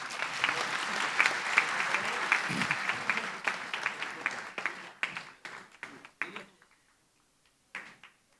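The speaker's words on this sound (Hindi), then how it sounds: "दोनों के लिए जोरदार तालियां।" An audience claps at a student felicitation ceremony, with dense steady applause that thins into scattered separate claps, stops, then returns briefly.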